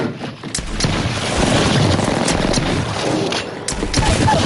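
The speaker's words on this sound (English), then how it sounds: "Taking fire." Rapid gunfire in the video game Apex Legends, loud bursts of automatic shots with sharp reports clustered near the start and end, fairly close and dense.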